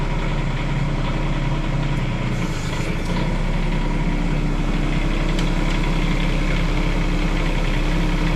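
Mini excavator engine running steadily while the carriage swings around, a loud continuous low-pitched diesel drone that holds even throughout with no pauses.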